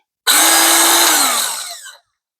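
A Ryobi 18V cordless drill motor whirs up sharply, holds a steady high whine for over a second, then winds down as it's released.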